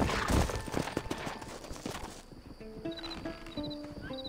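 Horse hooves clip-clopping in the Red Dead Redemption video game, a quick run of loud close hoofbeats that fades into quieter game ambience with faint tonal chimes.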